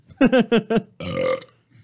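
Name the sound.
person burping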